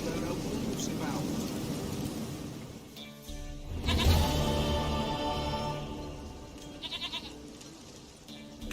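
A goat in the video game The Witcher 3 gives a drawn-out bleat midway, with shorter bleats later, set among speech and game background sound.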